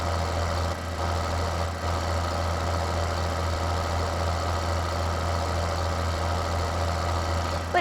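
A tractor engine idles in Farming Simulator 2013, a steady low mechanical drone with a constant hum and faint knocking throughout, heard alone.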